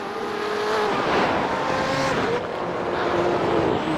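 Race car engine at Detroit Belle Isle in the iRacing video game, a loud continuous droning buzz with shifting pitch and brief tire squeal, steady throughout with no talk.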